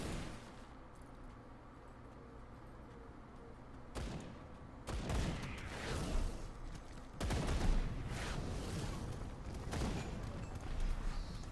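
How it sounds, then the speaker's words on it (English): Rifle gunfire in the action RPG Grim Dawn, with heavy, meaty shots in scattered bursts over a low ambient game bed, growing louder and denser in the second half. "Actually, the new gunshots just sound really good. Like the rifles, it just sounds really meaty."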